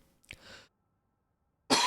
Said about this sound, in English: I still have like phlegm in the back of my throat. It makes me cough.